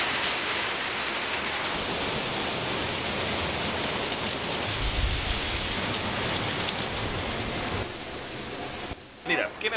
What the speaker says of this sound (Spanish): afuera, mucha lluvia, granizo, viento